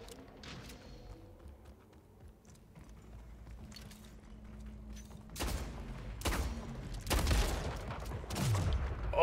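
Gunfire from the Splitgate video game, a few sharp shots bursting out in the second half over a quiet low hum, getting louder toward the end.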